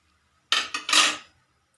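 Metal utensils clatter as boiled brinjal is moved into a vessel: a brief, close burst of three quick clinks and scrapes, with no voices.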